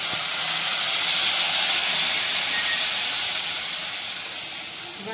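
Garlic chutney sizzles in hot oil in a pan, a loud, steady hiss close by that fades slightly toward the end, with no talk.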